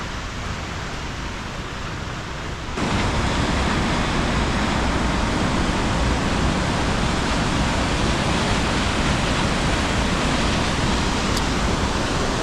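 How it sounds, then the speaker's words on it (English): Aira Force waterfall roars after heavy rain, a dense, loud, unbroken rush of falling water that swells sharply a few seconds in and then holds steady. "It's quite a tall waterfall this"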